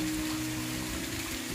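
Heavy rain falling around a temple as a steady, soft hiss of water, joined by a low, sustained hum in the background, with no talk.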